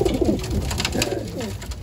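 Racing pigeons resting at their loft coo continuously, soft rolling low-pitched murmurs overlapping one another, close by and steady throughout.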